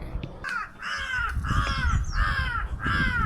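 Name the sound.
crows cawing and fighting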